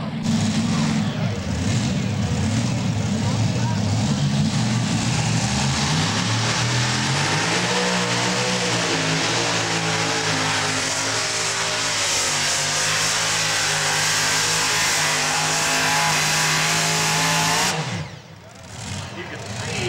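A modified pulling tractor driven by three engines roars at full power during a Tomah, Wisconsin NTPA pull, a loud sustained rumble with rising and falling engine pitch that drops off sharply near the end, an announcer talking over it.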